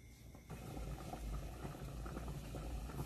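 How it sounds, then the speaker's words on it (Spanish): Green tomatoes and five serrano chiles boiling together in a pot for salsa verde, a steady close bubbling and rumbling simmer that holds evenly throughout with no voices. "ahora hemos puesto nuestros tomates verdes a hervir para nuestra salsita, nuestra rica salsita, junto con los 5 chiles serranos"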